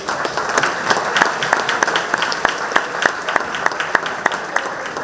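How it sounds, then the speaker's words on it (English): An audience at a New York State boxing hall of fame induction breaks into steady applause, with dense, irregular clapping filling the room at moderate loudness throughout. "let's give him a round of applause."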